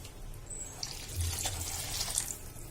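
Water from the mixer jar used to grind the masala pours into a pot of tamarind yam curry, a steady close splashing stream with no talk over it.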